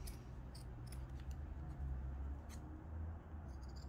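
Scissors snip at the fabric of a long formal bridal glove, a few quiet, scattered cuts over a low hum of room noise.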